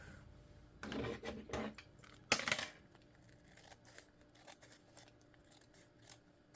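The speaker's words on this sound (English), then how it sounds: "I'm just again going to take my scissors and I'm going to just trim off that little bit there." Scissors trimming the edge of a handmade fabric junk journal notebook: a few sharp snipping cuts in quick succession, then a louder crisp snip and rustle of paper before quiet handling sounds.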